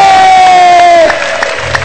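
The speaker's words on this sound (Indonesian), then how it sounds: "Ya silakan kasih tepuk tangan dulu" A seminar audience at a marketing event cheering loudly, with sustained shouts and whoops from a large crowd, a held tonal voice gliding downward at first, and some clapping mixed in, close and very loud.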